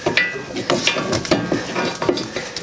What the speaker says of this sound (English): Now grab a torque wrench.